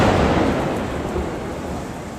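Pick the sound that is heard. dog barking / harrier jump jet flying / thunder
thunder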